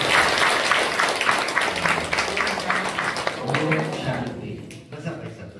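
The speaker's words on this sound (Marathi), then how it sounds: "टाळ्या वाजवा सर्वांनी." Audience clapping at a Brahma Kumaris centre welcome and felicitation, brisk applause mixed with someone talking over it, fading out near the end.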